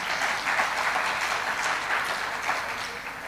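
A crowd at a spiritual lecture breaks into steady clapping, a dense, lively patter of many hands that stays even and fairly close for a few seconds with no speech.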